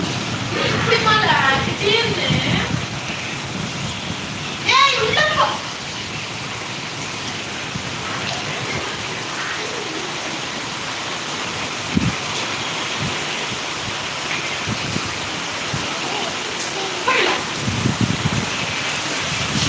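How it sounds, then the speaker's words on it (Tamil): Heavy rain pours down steadily and loudly, with a few louder splashing bursts and faint voices in the background. "ஊட்டி மாதிரி மழை வந்துருச்சு நம்ம ஏரியாவில்"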